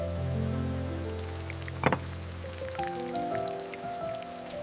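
Steady rain falls in a forest in the morning, a soft constant patter and drip across the whole span, with a brief louder knock near the middle.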